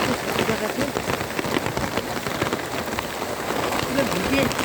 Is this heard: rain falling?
yes